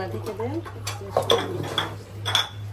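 Metal clinks and taps of a cooking pot and lid being covered over beef curry, several sharp clanks close by, with a low steady hum underneath.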